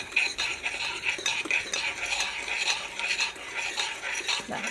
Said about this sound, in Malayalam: ഫസ്റ്റ് ഈ പഞ്ചസാര നമുക്ക് ഇതിനകത്തോട്ട് മിക്സ് ചെയ്യാം.